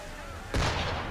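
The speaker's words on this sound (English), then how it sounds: "Why is he shooting at us?" A ship's cannon fires once in Assassin's Creed III, a sudden loud boom that breaks over a quiet ambient bed and leaves a rumbling tail.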